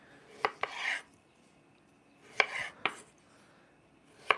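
A kitchen knife cuts tiny potatoes in half on a board, giving sharp close chops in irregular pairs and singles with short scraping rasps between, on a quiet background.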